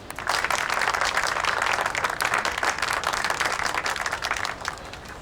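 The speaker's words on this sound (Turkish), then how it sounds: "Alkışlayalım lütfen. Alkış, alkış." A crowd claps steadily for about five seconds, a dense even wash of applause at moderate level that tapers slightly at the end, with no talk over it.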